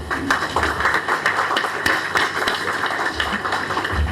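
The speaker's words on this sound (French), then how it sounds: "Je crois qu'on peut l'applaudir très très fort." A conference audience applauds, dense overlapping hand claps sustained at an even, fairly loud level throughout.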